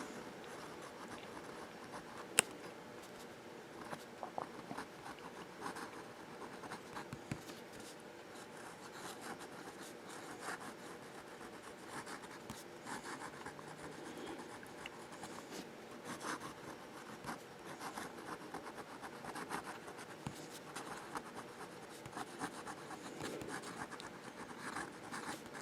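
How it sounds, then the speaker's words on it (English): A Sheaffer Student fountain pen writing upside down on paper, a faint, steady scratchy nib sound with light strokes and small ticks, quiet and close with no talking. "How about some reverse writing?"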